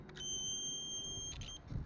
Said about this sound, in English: So in 2 ways it makes a beeping sound and the red light comes on